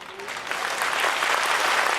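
Applause from a large audience at a religious gathering in Alwar, a dense, steady clatter of many hands clapping that holds for a couple of seconds, loud and close.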